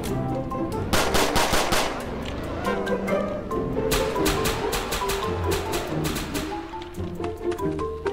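Rapid machine gun fire in the Roblox video game comes in loud, dense bursts of crackling shots that repeat across the stretch, with brief gaps between volleys and faint game noise underneath.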